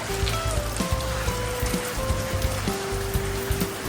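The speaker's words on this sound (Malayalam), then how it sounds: "നല്ല മഴ ഉണ്ട് ഇവിടെ, നല്ല മഴയാണ്." Heavy rain falls in a steady wash of noise with close, irregular drips and taps striking a surface, and a faint low tone briefly appearing.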